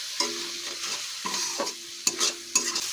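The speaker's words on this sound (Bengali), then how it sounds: "এবার এটাকে খুব ভালো করে কষবো, অল্প একটু জল দিয়ে" Spices and cumin powder being stir-fried in a pan with a little water, heard as close, repeated scraping strokes of a spatula over a soft sizzle, with no talk.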